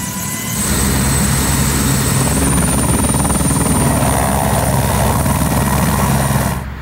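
A helicopter flying over the 24 Hours of Le Mans race, with a steady loud rotor drone and a pulsing low thrum that holds constant throughout before cutting off at the very end.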